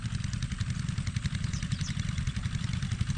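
Several engines of irrigation water pumps run steadily in rice fields, a continuous low rumbling clatter with a mid-range chug, fairly close and unbroken with no talking.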